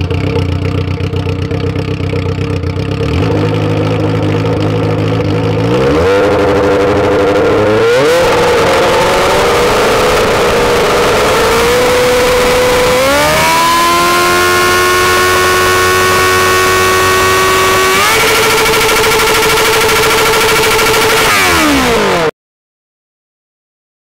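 A loud Honda Hornet motorcycle engine revs hard and continuously, pitch climbing in stepped surges as the throttle is held open, with no talk over it.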